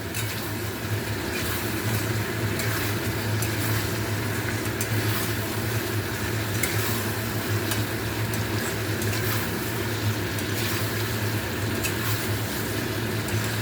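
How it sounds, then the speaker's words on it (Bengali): Potatoes frying in a pot for biryani, a steady dense sizzle with a low constant hum running throughout, loud and close with no break and no voices. "এবার এর সাথে আলুগুলো অ্যাড করছি।"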